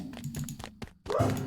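A dog barks in the video game Pumpkin Eater: a short, close burst of barking that comes in after a brief gap, with a few thudding knocks before it.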